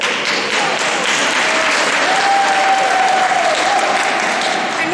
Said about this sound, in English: I'm not sure if that deserves applause or not.